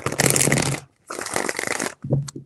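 A deck of tarot cards shuffled up close in three quick bursts of riffling and flicking, loud and crisp, with short gaps between them and no talk.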